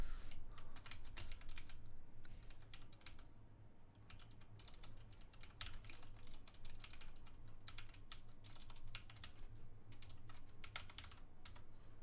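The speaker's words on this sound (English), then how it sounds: "I almost changed the scene while typing in the URL in the chat" Someone types a URL into a chat on a computer keyboard, producing fast, continuous clicking keystrokes with short pauses, heard close and fairly quiet over a steady low background hum.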